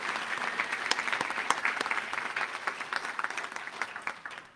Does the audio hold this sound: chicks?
no